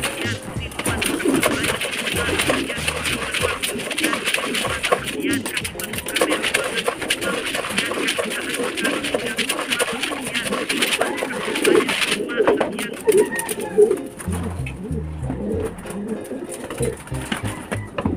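Racing breeder pigeons in a loft cooing, with soft, repeated throaty coos and wing rustling close by over a continuous busy background.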